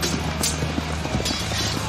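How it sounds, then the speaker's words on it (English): A charging cavalier's horse gallops in the medieval combat game Mordhau, its hoofbeats a steady rapid clip-clop under a dense, loud battle din. "In comes a charging cavalier."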